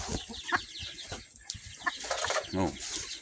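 Three-week-old Brahma cross breeder chickens cluck and chatter in short, irregular bursts at close range, with light rustling between calls.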